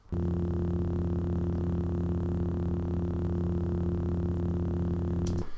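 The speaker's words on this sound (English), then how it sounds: "So that hum, that basic hum, just became the underlying factor of what the lightsaber sound was." A steady, deep electric lightsaber hum drones without change, layered low tones buzzing continuously before cutting off abruptly at the end.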